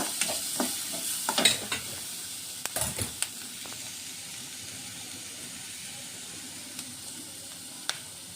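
Onions sautéing in a pan, starting with a burst of spoon scrapes and stirring knocks, then settling into a quiet, even sizzle with a few isolated clicks.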